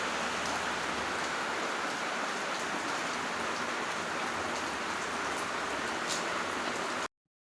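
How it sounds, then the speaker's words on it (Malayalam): Heavy rain pours down steadily with a dense, continuous hiss of drops on surfaces and no voices, then cuts off abruptly near the end. "നല്ല മഴയാട്ടോ, ഇടി ഉടുങ്ങുകയും ചെയ്യേണ്ട, നല്ല മഴയുണ്ട്"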